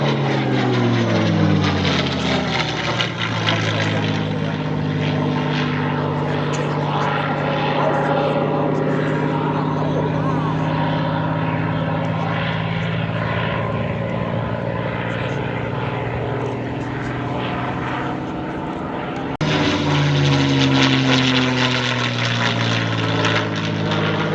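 A P-51 Mustang propeller plane drones steadily overhead at an air show, its engine a loud, even roar with a shifting pitch as it passes, continuing without pause.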